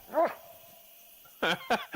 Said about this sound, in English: Yeah, shut up, dog.